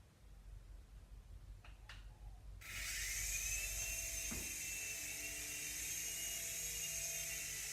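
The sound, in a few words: remote control helicopter flying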